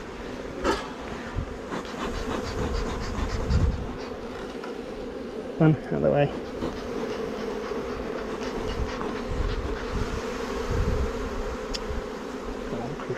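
Honey bees swarming during a Flow Hive inspection, a continuous close buzzing drone with knocks and clicks of handling, and a voice speaking briefly.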